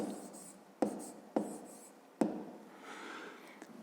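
A pen writing numbers on paper during a math exercise: close, quiet scratching strokes with three distinct taps as digits are set down, and no speech.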